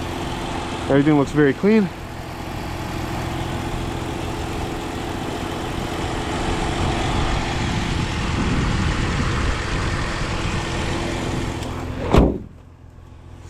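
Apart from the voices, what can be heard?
BMW X3 3.0i inline-six engine idling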